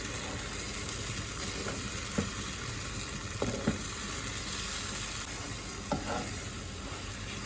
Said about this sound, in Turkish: Nişastalı karışımı ekleyip karıştıralım.